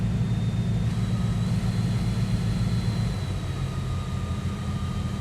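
A loud, constant low whooshing roar of a 2025 Aston Martin Vanquish V12's cooling fans running steadily after the engine is switched off, with a faint high tone on top and no voices.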